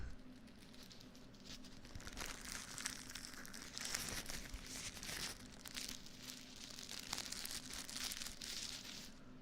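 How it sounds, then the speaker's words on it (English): Close, steady crinkling of a crumpled material in an ASMR setting, continuous rustling and crackling textures with brief louder bursts throughout, no talking. "There was someone earlier that wanted crinkling noises. This is crinkling."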